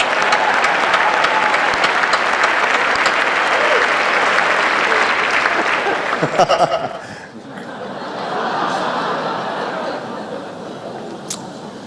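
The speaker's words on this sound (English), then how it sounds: "Let's give them a big round of applause" Large dinner crowd at the 2012 White House Correspondents' Dinner breaking into loud sustained applause with some laughter, fading after a few seconds to a quieter murmur and scattered clapping.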